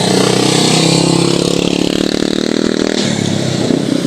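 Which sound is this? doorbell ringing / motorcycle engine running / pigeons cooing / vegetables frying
motorcycle engine running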